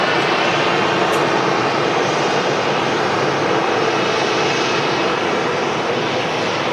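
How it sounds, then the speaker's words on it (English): A Ryanair plane in from Barcelona vacates the runway at Manchester Airport, heard as a loud, steady jet engine roar that holds even throughout, with no talk. "Ryanair just vacating in front of us in from Barcelona."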